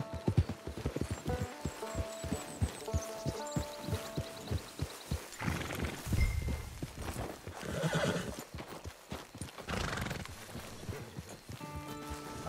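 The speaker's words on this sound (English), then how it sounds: "It's your horse." Horse hooves clip-clop at a walking pace in Red Dead Redemption 2 Online, a steady rhythmic series of near, moderately loud thuds, joined by a horse's whinny and snorting over a soft musical backdrop.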